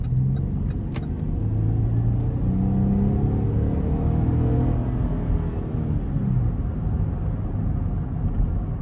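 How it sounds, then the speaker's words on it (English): A 2017 Buick Enclave engine pulls steadily under acceleration, its pitch rising and falling in a smooth rumble heard from inside, loud and continuous. "I really like the sound that comes from the engine"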